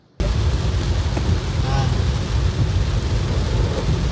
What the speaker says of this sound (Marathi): जाम म्हणजे जाम बेकार पाऊस पडतोय